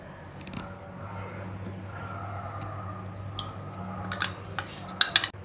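Semolina and curd are stirred together in a bowl for rava idli batter, soft thick squelching with a low hum underneath, then a few sharp clinks of a spoon against the bowl near the end.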